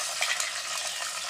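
Sliced onions and green chilies fry in hot oil, giving a brief, soft, steady crackling hiss with faint stirring, no voices.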